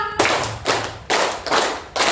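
A group in a school training session claps together in rhythm, five loud, sharp bursts of synchronized hand claps at roughly even half-second intervals, close and clear with no talk.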